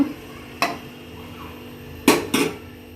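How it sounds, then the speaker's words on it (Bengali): Metal clanks of a pressure cooker lid being handled and shut: one sharp knock early, then two quick louder clanks near the end, close up over a quiet room hum. "এখন আমি প্রেসার কুকারে ঢাকনাটা বন্ধ করে দেব"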